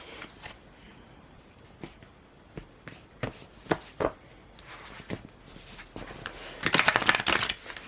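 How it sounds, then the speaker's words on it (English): Tarot cards being shuffled by hand in quick, uneven bursts of close riffling and flicking, starting sparse and building to a denser, louder flurry toward the end, with no voices. "I'm going to go ahead and start shuffling."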